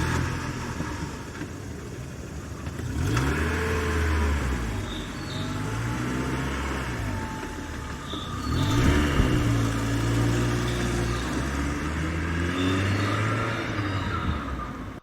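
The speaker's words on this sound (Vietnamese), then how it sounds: "thầy chèn lại cái đoạn âm thanh tiếng xe lúc nãy" A car engine sound effect plays through a slideshow: a continuous mid-pitched engine hum with rising and falling revs throughout, steady and fairly loud, with no talk over it.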